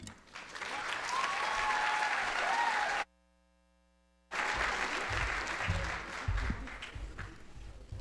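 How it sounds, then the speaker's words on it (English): A college health-professions commencement audience breaks into sustained applause, a dense wash of many hands clapping that stops abruptly, then resumes just as full and steady. "clapping for your families, friends, and your teachers"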